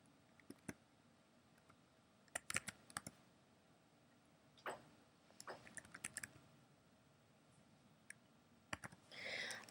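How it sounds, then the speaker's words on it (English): Quiet, close computer keyboard typing in scattered bursts of sharp clicks, with pauses between keystrokes. "I'm going to start typing the rest of the number."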